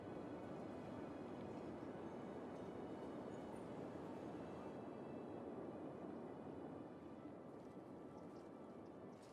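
Metro train running in the city-building game Cities Skylines, a continuous rumbling rail roar with a steady rolling texture, loud and unbroken throughout with no talk.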